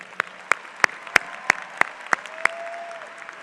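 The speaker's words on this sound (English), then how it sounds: "we give them a round of applause, please" Clapping at a high school graduation ceremony for the foreign exchange students: about eight sharp, evenly spaced claps in a steady rhythm, close and distinct, with a faint hum of the hall behind them.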